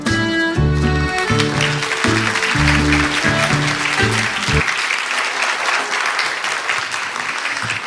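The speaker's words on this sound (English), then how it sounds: "Why don't you give another big round of applause?" Audience at an AI global forum in Seoul breaking into loud, sustained applause after a presentation, dense clapping filling the whole stretch alongside a brief musical tone at the start.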